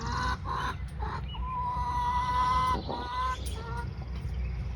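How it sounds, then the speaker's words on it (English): Chickens in a coop after a storm, clucking and calling several times in a row close by, with a steady rumble of wind or background noise underneath. "The chickens are all okay."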